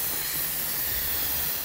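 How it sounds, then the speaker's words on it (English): An Instant Pot on quick pressure release after cooking cheesy chicken and rice, letting out a steady, loud, unbroken hiss of escaping steam that does not let up. "because it's done, we're gonna turn it over to a quick release"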